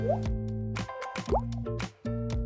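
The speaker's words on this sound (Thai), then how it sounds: "เติมไข่มุกลงไปในขวด" Tapioca pearls dropped into a bottle, making a series of close, hollow plops and drips at irregular intervals over a soft tonal musical background.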